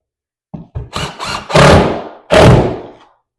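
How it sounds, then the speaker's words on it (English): A power drill drives screws into Durock cement board over a wooden subfloor, with several short trigger bursts building to two longer, loud whirring runs, close by. "Definitely the edges get screwed."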